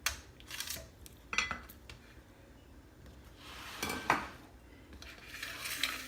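Juicy pineapple pieces set down and shifted about on a tray, giving a run of faint clinks, taps and soft scraping knocks spread irregularly over several seconds, with no talk.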